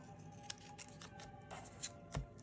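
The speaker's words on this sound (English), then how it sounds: "We are going to take our scissors, and we are going to cut on that score line" Scissors snip through scored paper card while making holiday thank-you cards, several quiet separate cuts spread over a few seconds against a soft room background.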